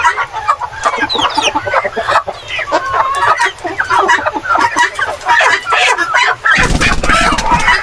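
Rhode Island Red chickens on a farm cluck loudly and continuously, several birds close together in a dense chatter, ending in a brief burst of rough noise.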